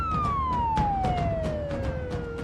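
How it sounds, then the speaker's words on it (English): An ambulance siren wails, slowly sweeping downward in pitch as the ambulance passes, over rumbling traffic noise with rhythmic thumps. "As the boys race lights and sirens"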